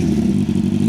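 A 600cc Suzuki Bandit motorcycle engine fitted with a short exhaust runs in a loud, close, steady low rumble, a brief burst with no speech.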